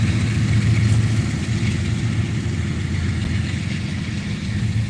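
R.J. Corman freight train led by four diesel locomotives at one end, a loud, steady low engine rumble droning close by at track side, with no speech.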